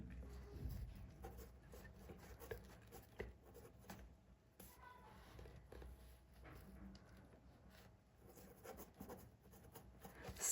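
Marker or chalk strokes scratch and tap on a board during a lecture, a faint, irregular run of short scrapes and knocks heard up close without speech.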